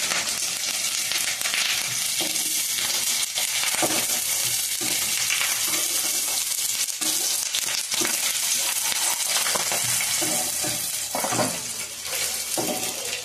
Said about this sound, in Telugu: సరే, ఈ 2 కలిసి చక్కగా వేగుతూ ఉన్నాయండి